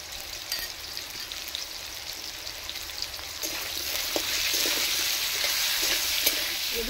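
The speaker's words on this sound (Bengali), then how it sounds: "এগুলো একটু লাল লাল করে ভেজে নেব" Potatoes seasoned with salt and turmeric fry in a pan, a continuous crackling sizzle that grows louder partway through, with occasional stirring clicks.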